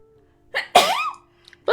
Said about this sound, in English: I'll have to sneeze.